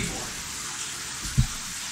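Water sloshing and splashing in a bathtub as a steady wet wash, with one brief louder slosh near the end.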